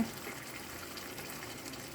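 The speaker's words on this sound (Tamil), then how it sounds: "தண்ணி பால் கொஞ்சம் ஊற்றிக்கலாம்" Thin milk poured into a simmering chicken black pepper curry (milagu kozhi), giving a steady, close liquid gush that runs evenly for about two seconds with no talking.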